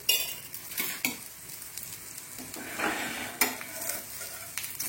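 Oil sizzling and frying on an iron griddle while a breakfast dish cooks, with steady crackle broken by scraping and clinks of a utensil against the pan, close and moderately loud.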